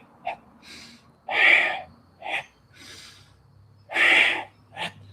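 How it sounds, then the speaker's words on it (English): Forceful ibuki breathing during Kyokushin karate Sanchin kata, a series of loud, hissing breaths in and out, some short and sharp, others long and strained, close up with no talking. "Breathe in."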